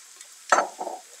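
Mushrooms tipped into a pan of briefly sautéed onions bring a sudden burst of sizzling that swells and then settles into a softer, crackling fry, close and fairly loud, with no voices.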